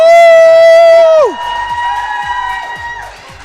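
An audience cheers and whoops for Green Bay Packers player Keisean Nixon at a live clubhouse event. A loud, sustained crowd roar fades into scattered shouts and chatter that trail off toward the end.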